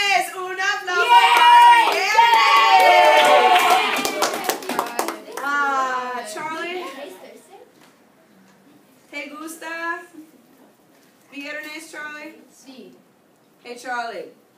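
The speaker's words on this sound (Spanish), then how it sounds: "Un aplauso." A high school Spanish class claps and cheers briefly, a burst of mixed clapping and excited shouting, followed by an adult and students talking.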